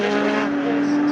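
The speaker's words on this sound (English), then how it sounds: "comes back past us. Does the BMW, and it sounds pretty normal" A BMW race car roars past on the Snetterton circuit during a club race, a loud, sustained engine drone with a steady high pitch as it passes close by.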